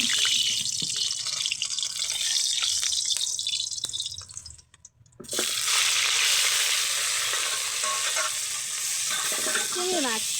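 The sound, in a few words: prawns frying in oil in a wok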